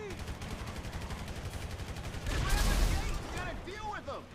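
Gunfire through a window in Grand Theft Auto V: a steady stream of rapid automatic shots swells into a louder, heavier burst near the end, while someone talks over it.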